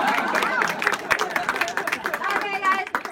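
Spectators at a demonstration break into quick, scattered applause, with crowd chatter and voices mixed in throughout.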